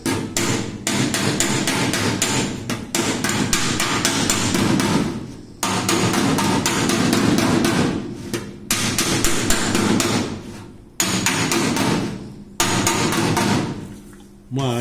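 Rapid metallic hammer blows on a 1968 Volkswagen Fusca body panel backed by a dolly, loud and close, coming in fast bursts of many strikes separated by brief pauses.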